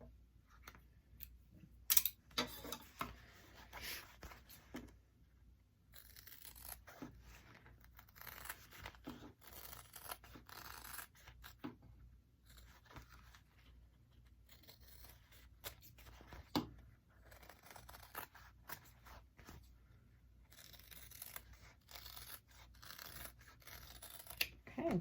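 Scissors snip and crunch through the fabric seam allowances of a sewn handbag, a quiet run of close, irregular cutting clicks and papery rustles with short pauses and no talking.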